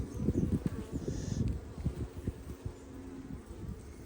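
A dense, steady hum of honey bees buzzing close by at an open hive while honey frames are pulled, with scattered louder passes as individual bees fly near.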